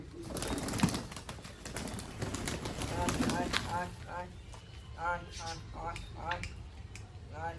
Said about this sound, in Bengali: সব পায়রাগুলো এখন আমার খাবার খাচ্ছে